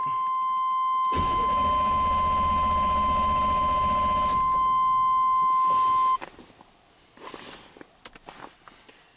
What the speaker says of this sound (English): So pedal to the rug and let's crank it.